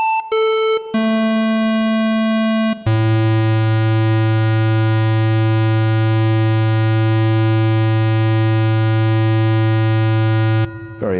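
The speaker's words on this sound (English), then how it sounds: "So yeah, a buzzy square wave." A harsh, buzzy square-wave tone from a Kodamo Mask1 synthesizer drones loudly, shifting pitch a few times before settling into a long, low, steady buzz that cuts off near the end.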